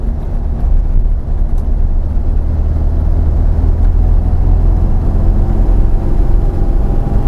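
A Porsche 914 on the move, heard from inside the car: a loud, steady low engine drone and road rumble that holds a constant level throughout, with no speech.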